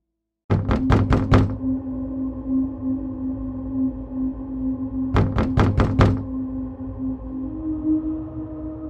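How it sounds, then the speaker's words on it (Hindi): Someone knocks on a wooden door at night in two quick bursts of four sharp raps, separated by a few seconds of steady low droning ambience. "दरवाजे पर दस्तक होती है।"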